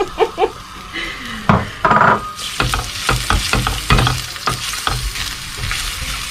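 Onion being stirred through oil in a pan for Turkish bulgur, scraped in irregular strokes with a spoon clinking against the pan over a light, steady sizzle; no talking.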